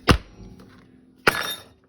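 A cake pan filled with dark chocolate sheet cake batter is knocked down hard on a counter twice to level it, two sharp thuds about a second apart with a brief rattle after each.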